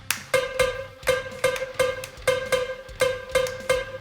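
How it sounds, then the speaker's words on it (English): A bright, sharp clave click played with the left foot on a drum kit repeats in a syncopated pattern over a steady low thump, even and clear, with no voices. "now needs a clave with the left foot that sounds like this."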